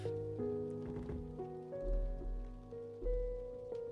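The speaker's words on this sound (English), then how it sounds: "something I think everyone could notice is that it is raining" Rain falls in the Roblox game Miner's Haven as a soft, steady patter beneath a gentle melodic tune of sustained notes, with occasional low rumbling swells.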